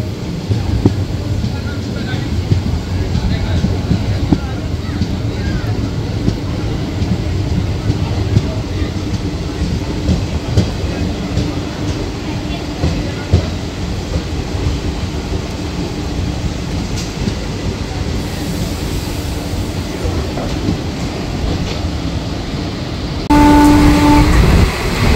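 Aboard the 03161 Digha Special in a general-class coach, a continuous rumble and rattle of the train at around 110 km/h, with wind buffeting and occasional knocks, and a louder burst near the end.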